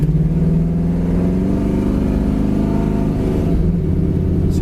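A dark red 1967 Chevy Camaro pulls away under load, its engine note rising in a loud, steady roar that climbs through the revs without any voices.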